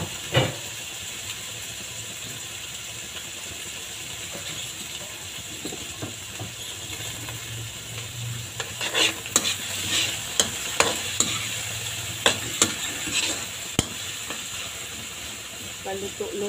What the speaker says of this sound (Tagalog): Lutuin muna natin ang kamatis bago natin ilagay ang ibang ricado.